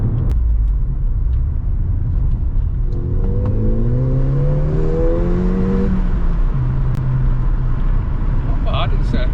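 Turbocharged car pulling hard in second gear, a loud steady engine drone rising in pitch as it accelerates with road rumble throughout, while a person talks over it.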